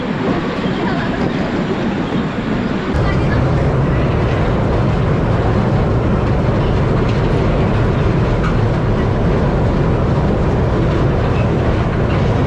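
An amusement park ride train with carriages at Dream Holiday Park in Narsingdi, Bangladesh, rolls along as a loud, steady rumble with clattering wheels close by, growing heavier after a few seconds, with faint voices in the background.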